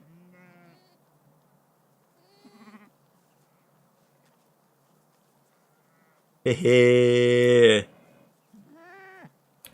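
A flock of sheep calls out, with scattered short bleats leading up to one long, loud, strained bleat near the middle and a few more brief calls after it, while a voice speaks briefly.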